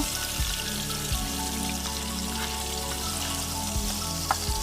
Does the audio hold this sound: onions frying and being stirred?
yes